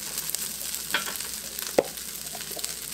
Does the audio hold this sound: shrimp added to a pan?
yes